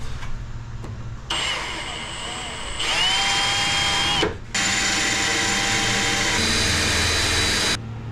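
A power drill whirs in several sustained runs drilling out holes in Bronco fenders, pitch shifting as it bites, with short pauses between bursts, close up.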